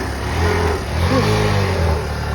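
A motorcycle engine runs steadily and loudly close by, a continuous mid-pitched drone with slight rises in revs, with no voices over it.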